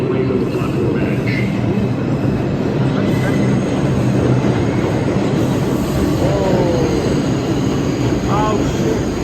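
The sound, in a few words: subway train arriving at Manhattan station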